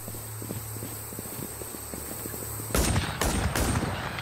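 Gunfire in the WarZ survival shooter game: quiet ambience, then from about 2.7 seconds a burst of loud, close shots, several sharp cracks in quick succession with echoing tails.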